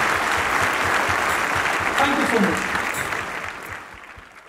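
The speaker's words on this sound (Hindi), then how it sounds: "एक बार जोरदार तालियों के साथ आप हमारे गेस्ट का स्वागत इस्तकबाल जरूर" Audience applause welcomes guests at the Bihar Development Forum in Gyan Bhawan, a steady, full-room clapping that runs throughout, thins toward the end, and carries a brief spoken thanks over it.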